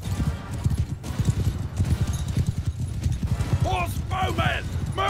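Rapid, rhythmic clip-clop of galloping horse hooves in the video game Bannerlord during a medieval battle, steady and close, with whinnying and battle noise layered in toward the end.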